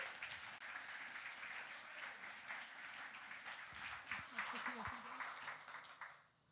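A festival audience claps steadily at a comic arts event, a dense, even patter of many hands with a voice murmuring over it before the sound fades out at the end.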